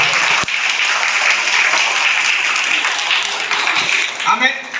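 A crowd gives loud, sustained applause for school teachers, a dense continuous wash of clapping that holds steady and swells briefly near the end.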